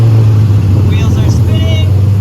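A jacked-up car's engine runs loudly in gear with a steady low drone and spinning wheels, close and continuous, with a faint whine above it.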